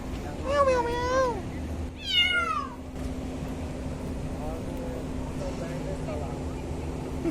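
A cat meows several times close by, two clear drawn-out cries early on followed by fainter mews, behind people waiting at a bus stop with steady background hum.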